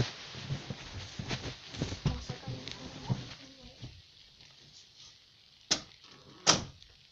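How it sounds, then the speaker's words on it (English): A bedroom door being closed in a home, two sharp knocks or clicks near the end after quieter rustling and movement, close and fairly loud. "I'm going to close my door."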